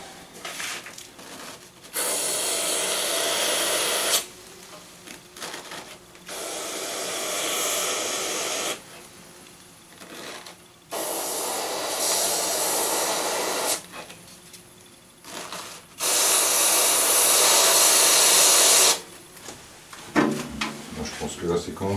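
Freezing spray can blasting into a wasp nest during nest destruction: three long, loud hissing bursts of several seconds each, separated by short pauses, with brief voices between them.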